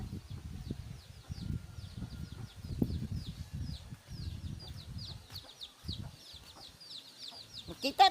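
Scattered hen clucks and clucking calls from a flock, with chirpy bird sounds high above and some low thumping noises close by.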